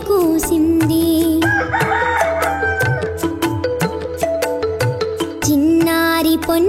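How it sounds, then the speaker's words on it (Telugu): A rooster's crow at dawn, cartoon-style, within a Telugu children's lullaby, loud and repeated against bright melodic music throughout. "తెల్లవార వచ్చింది కోడి కూసింది"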